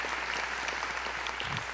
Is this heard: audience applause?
yes